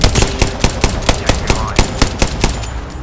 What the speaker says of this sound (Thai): ปืนนี้แม่งยิงช้าว่ะคุณผู้ชม